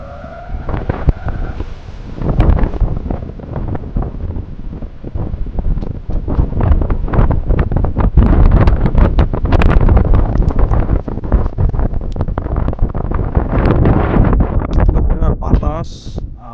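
Strong wind buffets the microphone throughout a road ride near a bridge, a steady loud roar with gusty bursts and traffic noise mixed in, while a voice talks at points.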